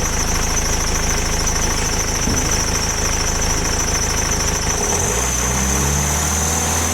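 A car engine idles with a steady low rumble and a high whine, its pitch shifting near the end as the revs change.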